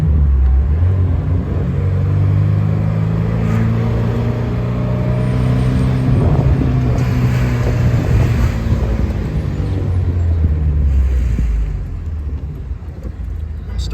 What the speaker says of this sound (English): Even 3-2 downshift is butter smooth.